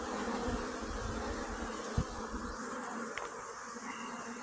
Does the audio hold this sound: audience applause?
no